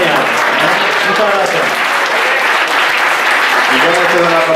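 A crowd of participants at a historic vehicle rally on the Costa del Sol applauds Pepe and the motorcyclists, loud continuous clapping with voices and calls mixed in throughout.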